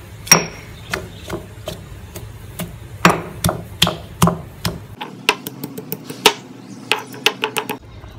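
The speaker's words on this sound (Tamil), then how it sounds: "சோ இத நம்ம வந்து நல்லா இடிச்சுக்கலாம் இப்போ" Ginger, garlic and chili pounded in a mortar for a Singapore-style sardine curry: a loud series of sharp, irregular thuds and knocks, close up, with no talk.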